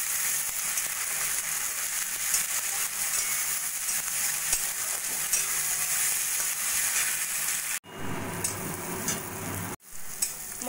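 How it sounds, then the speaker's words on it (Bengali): A spice paste of ginger-garlic paste with turmeric, chili and Kashmiri chili powders frying in oil in a pan, a steady close sizzle with stirring scrapes and two brief cut-outs near the end. "দিয়ে ভালো করে মশলাটা আমি কষিয়ে নেব।"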